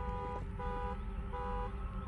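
Car alarm going off inside the Fortnite video game, a steady looping electronic wail with repeating tonal bursts, heard continuously at moderate loudness with no talk.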